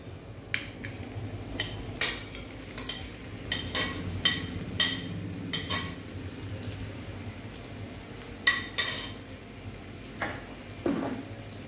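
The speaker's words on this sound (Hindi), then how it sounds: "अच्छे से मिक्स कर लेंगे।" Boiled potatoes and green chillies being stirred together in a hot pan for bread roll filling, with a steady sizzle and repeated scraping clinks of a spoon against the metal.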